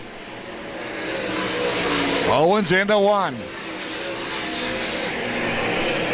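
Lucas Oil late model race cars roar past on the main straightaway at Lakeside, engines swelling to a loud passing sweep and fading, under steady commentary.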